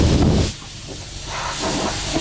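A hand-held metal cutting tool slices through thin, rusty sheet-metal floorboards of a 1957 Chevrolet Bel Air, making a loud, steady hiss that is strongest at first and then settles into a continuous rushing noise.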